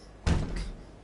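A locked front door to a dormitory in a video game is tried, giving two dull, muffled thunks in quick succession, the first louder, against a quiet background.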